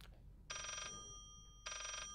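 A phone chimes twice during a Layers of Fear play session, each bright electronic tone lasting under half a second, clear and close against a quiet background.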